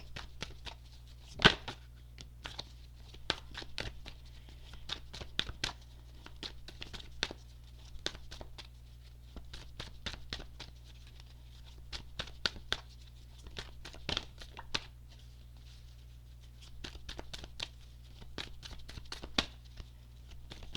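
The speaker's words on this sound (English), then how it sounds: "I'll keep shuffling because I think there's some more that want to come out." Tarot cards are shuffled by hand in quiet, intermittent bursts of soft riffling and patting, with short pauses between passes and one sharper snap near the start.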